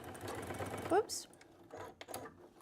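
A sewing machine runs in short quick bursts, top stitching fabric butterfly circles, its close mechanical whir mixed with someone talking.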